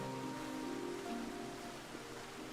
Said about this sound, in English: Yeah, it is pouring down rain